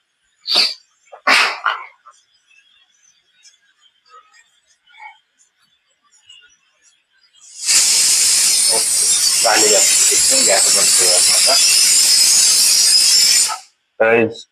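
After a few brief sharp bursts and near silence, a loud, forceful hiss of escaping steam from a pressure cooker whistle cooking masala rice blasts for several seconds, then stops abruptly.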